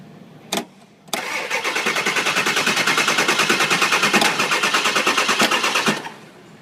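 Ford 7.3 Powerstroke diesel engine cranking over on a jumped starter solenoid, a steady, even rapid chugging rhythm lasting about five seconds after a brief click, loud and close with no talk.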